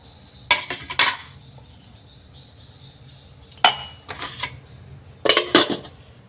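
Steel dishes, pots and cutlery clatter and clink in several short bursts of handling during kitchen cleanup after cooking, with quiet pauses between the bursts and no talking.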